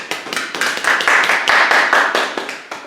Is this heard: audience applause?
yes